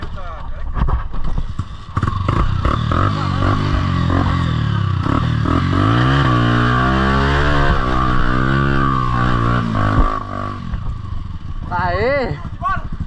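A dirt bike with a bald rear tire revs hard on a muddy velocross track after a week of rain. The engine climbs in pitch as it accelerates, with clattering from the start and a voice shouting near the end.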